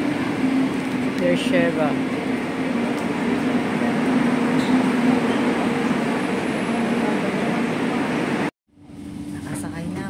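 Steady rumble and hum inside a moving train carriage in Israel, with a brief announcement voice and a sudden dropout near the end.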